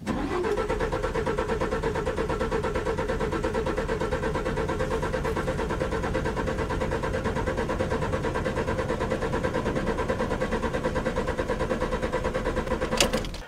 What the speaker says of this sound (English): crank the engine for 10 seconds or until test is completed